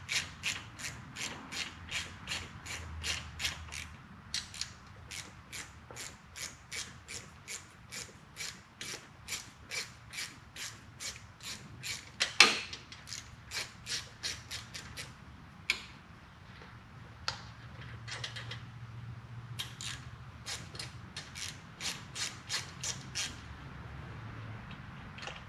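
A 3/8 socket ratchet loosens the rocker box breather bolts on a 2004 Harley-Davidson Road King Twin Cam, giving a long run of steady, crisp clicks close by, with a few sharper knocks partway through.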